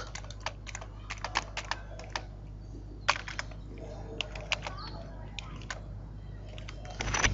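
Quiet typing on a computer keyboard, a run of light, uneven key clicks over a low steady hum, with a small burst of quicker taps at the very end.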